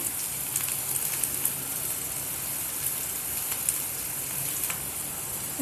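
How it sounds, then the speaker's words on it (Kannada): Bitter gourd fries in oil with salt and turmeric, giving a steady, even crackling sizzle throughout with a few faint pops. "ಇದಕ್ಕೆ ನೀವು ಸ್ವಲ್ಪ ಉಪ್ಪು ಮತ್ತು ಅರಿಶಿನ ಹಾಕ್ಕೊಂಡು ಫ್ರೈ ಮಾಡ್ಕೊಂಬಿಡಿ."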